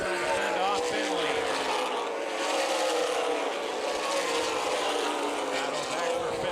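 Race cars roar past continuously at Toledo Speedway during an ARCA/CRA Super Series 100-lap race, a loud sustained engine drone with rising and falling passes, mixed with commentary voices.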